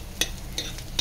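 Food fries and is stirred in a pan: a soft sizzle sits under three quick scraping strokes of a utensil against the metal, all within a second.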